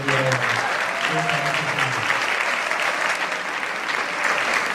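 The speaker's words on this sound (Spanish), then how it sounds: "quiero pedirles que se aplaudan ustedes mismos porque es súper necesario" An audience at a talk on school inclusion applauds steadily and loudly for about five seconds, a dense wash of clapping with faint voices underneath.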